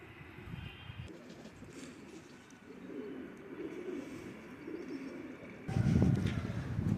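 Pigeons at a pigeon market or loft coo in low, throaty, overlapping murmurs, a continuous nearby burble that swells louder toward the end, with faint outdoor background noise.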